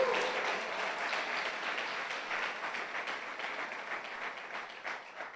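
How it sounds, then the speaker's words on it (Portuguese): Steady applause from a congregation at a church service, a dense wash of clapping that holds at an even level for several seconds. "Pode aplaudir o Senhor."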